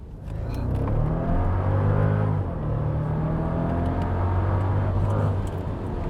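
A Mercedes SL55 AMG engine pulls strongly under steady acceleration while driving, a smooth, loud and continuous low-pitched drone with a slight rise in pitch and no voices over it.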